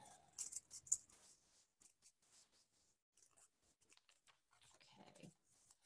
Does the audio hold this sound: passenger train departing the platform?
no